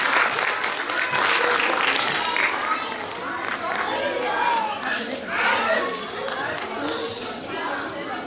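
Sustained audience applause at a kindergarten year-end show, a dense steady clatter of clapping hands lasting throughout, with children's voices and chatter mixed in.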